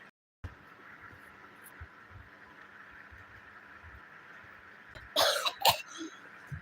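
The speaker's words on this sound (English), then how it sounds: "Oh no. Here comes the coughing." Coughing during a livestream of a Geometry Dash level build: a couple of loud, harsh bursts near the end, preceded by a faint steady hiss.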